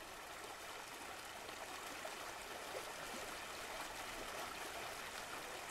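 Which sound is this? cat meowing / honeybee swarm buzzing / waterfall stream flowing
waterfall stream flowing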